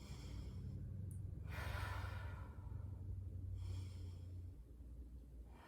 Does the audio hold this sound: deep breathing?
yes